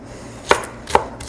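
Onions diced with a knife on a cutting board, three sharp, distinct chops spaced roughly half a second apart, close and clear.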